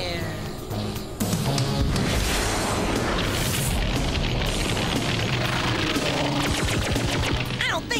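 A cartoon laser cannon fires in a loud, sustained blast, a roaring burst of crackling, rumbling energy that starts abruptly and continues densely to the end.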